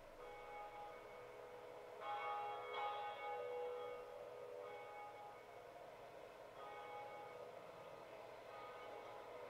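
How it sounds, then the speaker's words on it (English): A game bell tolls in Dark Souls, a clear ringing tone with sustained harmonics that strikes again a second later and fades out over a faint steady background, no voices present. "And with this, we ring the first bell."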